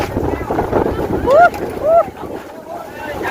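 A strong storm wind gusts outdoors at a Thai merit-making festival where papaya salad is being pounded. A loud buffeting roar with rising whistling tones lasts throughout, and voices talk nearby.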